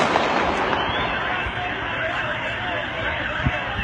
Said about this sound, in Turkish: Kim o sıkan kim ya? Polis mi sıkıyor? Kim sıkıyor?